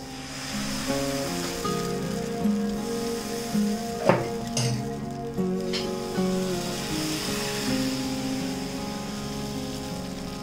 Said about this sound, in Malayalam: അപ്പൊ നമ്മുടെ ചട്ടി നന്നായിട്ട് ചൂടായിട്ടുണ്ട്. അതിലേക്ക് നമ്മുടെ മാവ് ഒഴിച്ചു കൊടുക്കാം.